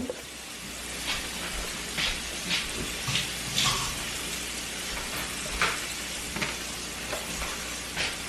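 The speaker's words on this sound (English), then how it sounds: "while it's frying." Chicken sizzles and crackles steadily frying in hot grease, with periodic bursts of louder spattering; no talking.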